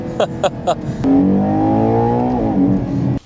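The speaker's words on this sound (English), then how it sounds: "give it some throttle" A 2025 Ferrari Purosangue V12 engine blips three times under throttle, then holds a loud, sustained rising rev close by before cutting off sharply.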